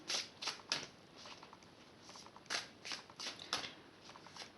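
Crystal-skull oracle cards are shuffled by hand, giving soft, rapid riffling bursts that repeat in short clusters at close range.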